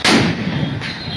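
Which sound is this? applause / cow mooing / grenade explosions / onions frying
grenade explosions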